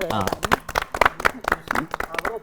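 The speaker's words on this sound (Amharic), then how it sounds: "ቤተሰቦቻችን አንድ ሞቅ ያለ ጭብጨባ" An audience gives a round of applause, quick uneven claps rising and falling under continuous talking.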